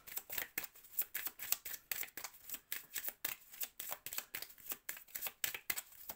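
Tarot cards being shuffled and drawn by hand, a quick run of crisp, papery riffles and flicks at an even rhythm, close and fairly quiet with no talking.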